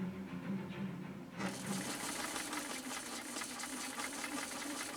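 A 1972 Kenmore 1318 sewing machine sews through two layers of elk hide, giving a continuous steady motor whir with a fine rapid needle chatter, close and even throughout, with a brighter rise in hiss after the opening second.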